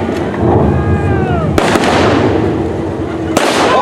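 Loud sharp gunshots crack during a wartime re-enactment on a heritage railway, one blast early and two more bursts later, each ringing out with a long echoing tail under crowd noise outdoors.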